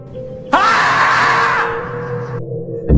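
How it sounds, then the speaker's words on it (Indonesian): A scream of pain rises sharply, one loud, sustained anguished cry that holds about two seconds before tapering off, set within a spooky story about a kuyang night spirit. "Terdengar suara seperti teriakan kesakitan."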